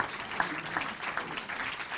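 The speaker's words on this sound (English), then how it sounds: "how about a nice warm round of applause" A warm round of applause from an audience at a speaking event, dense steady clapping filling the room with no talk over it.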